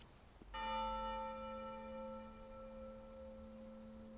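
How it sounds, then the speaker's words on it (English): A single bell in the video game Maquette is struck once and rings out with a clear, sustained tone that slowly decays over several seconds, heard alone and fairly faint. "The bell rang again."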